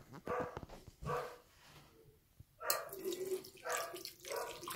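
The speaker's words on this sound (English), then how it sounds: "You come wash your hands." Tap water runs into a sink as hands are washed, a steady close splashing stream with a few soft bumps and a dog barking faintly nearby.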